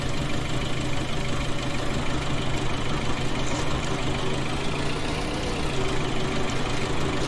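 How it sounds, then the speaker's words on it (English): A John Deere 5110 tractor engine runs steadily while drilling spring wheat in a field, a continuous loud low drone heard from outside the cab with no breaks and no voices. "Let you see the tractor working from the outside"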